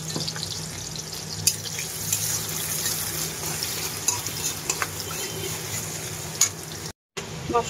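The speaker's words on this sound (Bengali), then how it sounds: "মশলা কষিয়ে মাংসটা কষিয়ে নিলাম" Chicken meat being fried and stirred with spices in a home pan, a steady close sizzle broken by occasional scrapes and clinks of the spoon, with no talking.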